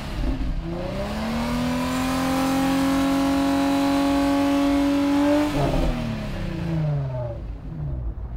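Infiniti FX35 with a twin-turbocharged engine and twin exhaust pipes revved hard, a loud close engine climbing and holding a high rev for several seconds before dropping back to idle.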